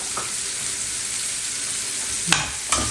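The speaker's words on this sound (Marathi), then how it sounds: "त्यामध्ये आता आपल्याला हा कट केलेला कांदा टाकायचा आहे आणि कांदा टोमॅटोला छान परतवायचा आहे आपल्याला" Onion and tomato stir-fry in oil in a pan, a continuous, fairly loud sizzling hiss, with two sharp scraping knocks near the end, and no voices.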